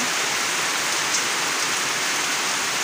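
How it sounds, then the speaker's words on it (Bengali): Steady early-morning rain pouring down in a village, a dense continuous hiss of drops falling on surfaces nearby, with no voices. "সকাল সকাল বৃষ্টি, গ্রামের বৃষ্টি দেখেন কত সুন্দর"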